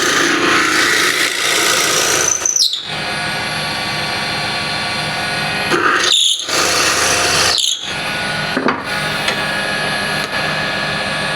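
A drill bores a starter hole into walnut burl spinning on a wood lathe, making a loud, steady whine that breaks off in a few short pauses.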